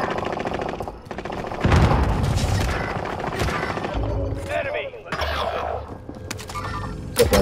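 SMG gunfire rattles in Call of Duty: Modern Warfare in loud rapid bursts amid explosions and battle noise, with voices talking over parts of it.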